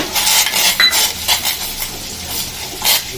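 A ladle scrapes and clinks against a pot while flour mixture is stirred into boiling water, a series of close, bright scraping strokes with no talk.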